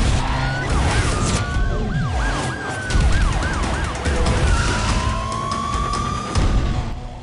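Wailing police sirens in Need for Speed Undercover rise and fall over steady car engine noise and road rumble during a police chase, with several sirens overlapping at close range.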